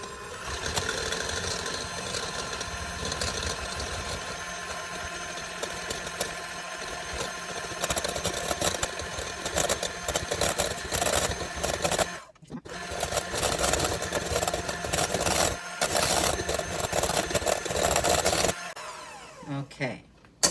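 An electric hand mixer whipping egg whites to stiff peaks for a souffle omelet, a steady close buzzing whir with rattling beaters in the bowl, briefly pausing twice before stopping near the end.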